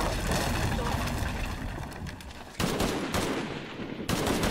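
Rapid gunfire bursts in the Shadow of the Tomb Raider video game, loud and dense, with sharp new volleys breaking in near the end and shouting voices mixed in.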